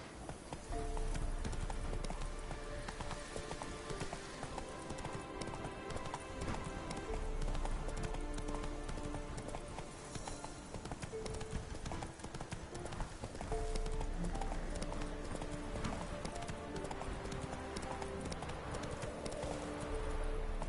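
Roach the horse gallops in The Witcher 3 with a steady, rapid clip-clop of hooves that runs nonstop under game music and ambience.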